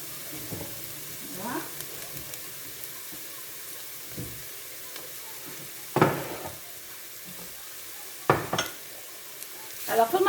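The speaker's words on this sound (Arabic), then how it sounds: "درت غير بصل، راني نحمر فيه ندبل فيه" Onions frying in a pot, the base for a stuffed fennel dish, give a soft, faint sizzle with occasional louder clinks and scrapes of stirring.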